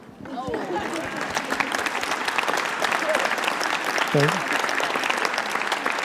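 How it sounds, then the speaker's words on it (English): Audience applause at a conference panel session, steady and dense for the whole stretch, with a few voices murmuring beneath the clapping. "I'd like you really to join me in a round of applause"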